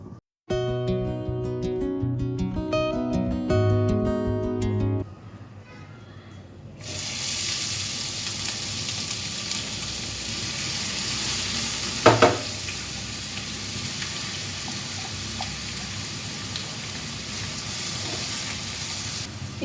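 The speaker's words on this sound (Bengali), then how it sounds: "পেঁয়াজটা ভাজা ভাজা হয়ে এসছে" Onion fries in oil with whole spices, bay leaf and dried red chilli, giving a steady close sizzle with occasional stirring clatter. It follows a few seconds of music.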